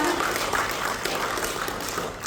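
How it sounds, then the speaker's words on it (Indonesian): Audience applause at a training session, a fairly quiet, diffuse spatter of clapping from a seated group that holds steady for a couple of seconds before easing off. "Tepuk tangan untuk kita semua."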